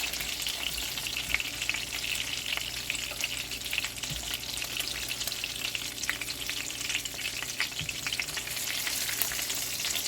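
Meatballs fry in a pan with a dense, continuous sizzle and crackle, close and steady throughout, with faint low clicks and no speech.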